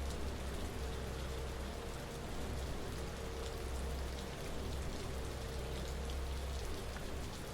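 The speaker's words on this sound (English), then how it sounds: "I hardly ever play this game in the rain" Rain in the Trainz Simulator 3 game on the Bavarian Immenstadt-Oberstdorf route falls as a dense, even hiss of drops on surfaces, steady and unbroken throughout.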